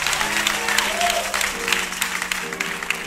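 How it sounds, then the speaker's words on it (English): Church audience at a live gospel concert in Montgomery, Alabama, clapping hands steadily throughout, a dense wash of claps with faint voices mixed in. "why don't you clap your hands and tell us thank you?"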